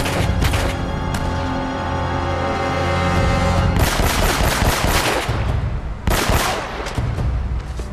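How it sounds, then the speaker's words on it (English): Gunfire in Uncharted: Drake's Fortune, a loud continuous stretch of rapid shots with sharp bursts that crack out around the middle and again near the end, with no talking. "Trying to kill this guy with a pistol."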